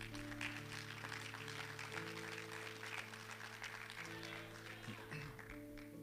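A Spanish-speaking church congregation claps during a service, a soft, steady patter of many hands mixed with sustained keyboard chords and a low hum, fairly faint overall.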